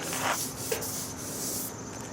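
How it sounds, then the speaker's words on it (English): Steady abrasive rubbing of 220-grit sandpaper across a Ford F100 truck bumper, a continuous scratchy hiss close by with slight back-and-forth variation. "let's finish sanding this bumper. We're sanding it with 220."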